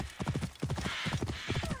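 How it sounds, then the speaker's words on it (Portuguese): Horse hooves galloping in the video game Assassin's Creed Origins, a loud, steady clip-clop rhythm of quick beats running throughout with no speech. "deixa eu pegar o cavalo"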